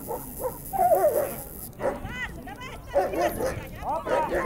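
A German Shepherd yips and barks excitedly in short bursts at a dog show in Odesa, mixed with people talking nearby.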